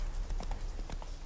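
Horse hooves clip-clop in a steady trotting rhythm in The Witcher 3, with the game's ambient sound underneath.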